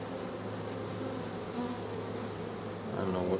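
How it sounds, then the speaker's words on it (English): Agitated honey bees pour from an open nuc hive crowded with burr comb, making a dense, continuous buzzing close by that swells slightly toward the end. "these bees are pretty aggro"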